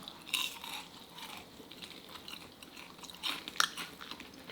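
Crunchy bites into crispy honey combo fried chicken during a grandmother's Korean mukbang, with sharp crackling crunches near the start and again after three seconds, close to the microphone, over a soft steady background hiss.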